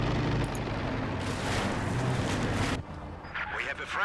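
Katyusha rocket artillery fires in a strategy video game, rumbling in a dense, sustained barrage of launches and blasts that cuts off abruptly near the end and is followed by lighter battle noise.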